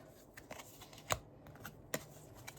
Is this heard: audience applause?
no